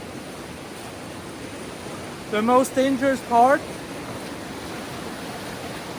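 Steady river water rushes along an old log rafting and fishing trail, a continuous broadband wash that holds even throughout, with someone briefly speaking over it midway.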